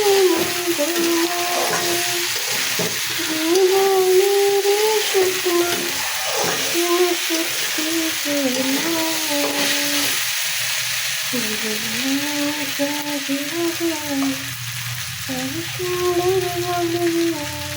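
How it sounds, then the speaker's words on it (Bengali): Vegetables sauté in a hot pan with a steady sizzle while a spatula stirs and scrapes them, with someone talking over the cooking throughout. "আরো কিছুক্ষণ কষিয়ে নেব আমরা সবজিটাকে।"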